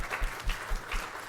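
An audience at a policy event gives a brief burst of applause, with a few rhythmic claps heard close together and no speech over them.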